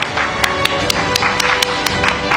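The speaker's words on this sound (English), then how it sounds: "A big round of applause, ladies and gentlemen." Audience at a business leadership awards event gives a round of applause for a speaker, steady loud clapping throughout with sharp individual claps standing out.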